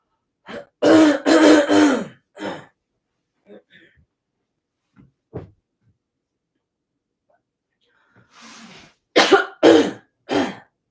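A burst of harsh coughs and throat clearing up close, then a quiet stretch with small clicks, followed by another cluster of coughs.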